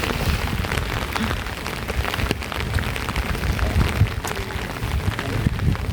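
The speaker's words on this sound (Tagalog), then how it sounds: "Lakas ng ulan." Heavy rain pouring steadily in Kyoto, Japan, a dense roar of drops drumming on surfaces close by, with no break.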